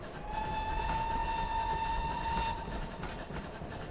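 A train rolls across a bridge in a train simulator game, with a steady mechanical drone under a sustained tonal whine, close and continuous, with no talking.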